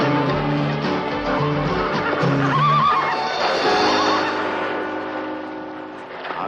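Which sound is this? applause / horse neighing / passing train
horse neighing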